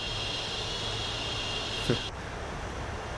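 The jet engines of a Boeing 747-400 in the Prepar3D flight simulator give a steady, loud cockpit drone with a constant high whine. A brief click and a small shift in tone come partway through.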